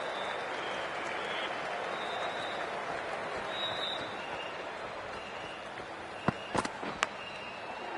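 A stadium crowd in a Cricket 24 match applauds and murmurs as a steady, distant wash of clapping and cheering, with a few sharp clicks near the end and a commentator talking over it.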